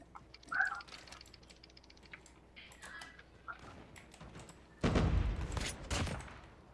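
Bursts of rapid gunfire in Call of Duty Mobile crackle near the end, after a stretch of clicks and scattered mechanical noises, with faint talk underneath.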